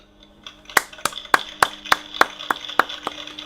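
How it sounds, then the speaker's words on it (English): One person clapping hands close by, about ten sharp, evenly spaced claps in a steady rhythm that start softly and then hold a firm, crisp level. "I'm giving him a round of applause."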